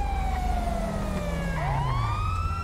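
A police car siren wails nearby, its tone falling and then sweeping back up, with a vehicle engine rumbling underneath.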